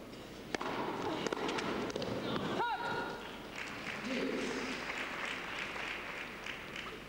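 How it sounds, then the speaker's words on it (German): Stormy applause from a tennis crowd after a forehand volley, a steady wash of clapping with a commentator talking over it and a few sharp claps standing out. "Stürmischer Beifall für diesen Vorhandvolley von Natalie Tosia."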